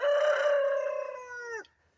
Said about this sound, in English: And the chicken's got to get involved.